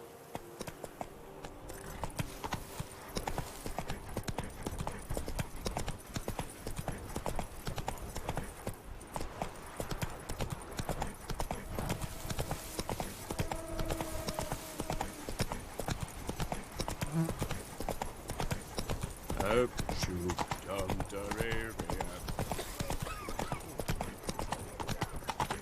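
Roach the horse trotting in The Witcher 3: a steady, continuous clip-clop of hooves running throughout, fairly close, layered over game ambience and music, with a voice speaking briefly.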